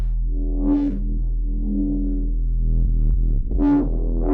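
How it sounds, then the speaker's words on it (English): A buzzy FM synth bass with distortion and a resonant filter drones steadily, its harmonics swelling brightly at the start and again near the end. "So I just made a like a little FM bass kind of thing"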